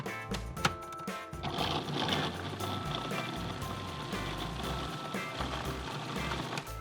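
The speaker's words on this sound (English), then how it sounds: "Now I'll blend the sweet potato until it's smooth." Food processor whirring as it blends roasted sweet potato until smooth, a dense continuous motor drone with clattering and rattling, fairly quiet and without speech.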